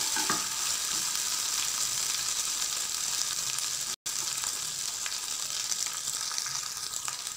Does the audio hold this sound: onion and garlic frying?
yes